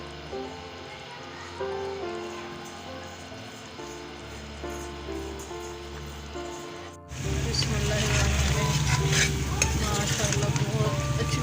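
Potatoes fry and sizzle in a pan while being stirred, a steady close frying hiss that grows noticeably louder partway through, with a few scraping stir strokes and no speech.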